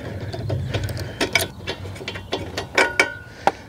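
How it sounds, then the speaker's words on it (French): A spark plug wrench unscrews the spark plug from a petrol lawnmower engine, giving a series of short ratcheting clicks and metallic ticks, close and clear, spread unevenly over a few seconds with no talking. "on positionne la clé sur la bougie. Et une fois qu'elle est bien installée, on dévisse"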